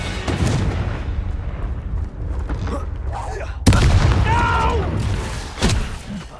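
Confringo fire spell explosions in the Hogwarts Legacy video game boom in heavy blasts, with a sharp loud burst midway and crackling debris, while voices shout over the combat.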